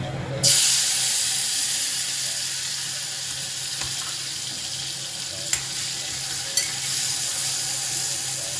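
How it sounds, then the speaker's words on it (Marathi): Tomatoes dropped into hot ground masala of fresh coconut, ginger, garlic and cumin burst into a loud, bright sizzle that settles into steady frying hiss, with a couple of sharp utensil clinks. "आता थोडा टमाटर टाकूया याच्यात. टमाटर फ्राय करूया."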